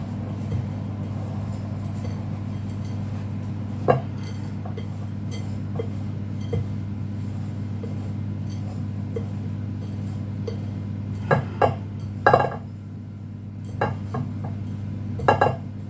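Gluten-free crumble topping is mixed by hand in a bowl, giving sporadic soft clinks and scrapes of a utensil against the bowl over a steady low background hum.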